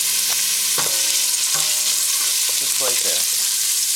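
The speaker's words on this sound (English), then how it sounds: "To that, I'm going to add some onions. I'm going to give them a saute." Onions sautéing in extra virgin olive oil in a preheated pot make a loud, continuous sizzle, broken by a few scraping stirs, while a person briefly speaks over it.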